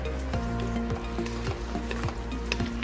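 Chicken and plum noodles sizzle in a hot pan while a utensil scrapes and taps rhythmically through the stir-fry, a dense close crackle with no one speaking.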